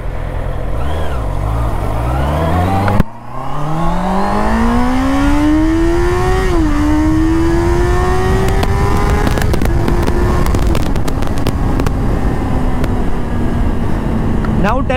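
A Honda CBR650R motorcycle's engine climbs through the revs in a long, rising howl, briefly dipping around a shift before pulling higher again; loud and close throughout, with no speech.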